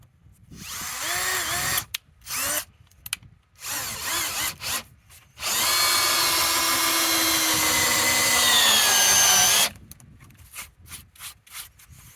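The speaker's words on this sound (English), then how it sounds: "you come back with a 3/4 inch drill bit, you drill down" A power drill bores into wood in a few short bursts, then runs steadily for about four seconds, its whine rising and falling under load before stopping.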